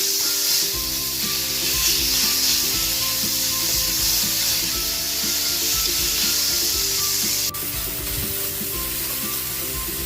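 Tomatoes drop into a hot frying pan with pork to come, giving a steady, close sizzle and scraping stir that runs the whole time, with no voices.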